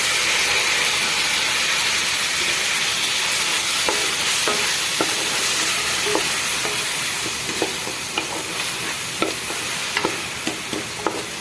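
Tomatoes fry with ginger in a hot pan in a loud, continuous sizzle, with light spoon taps and scrapes scattered through the later part.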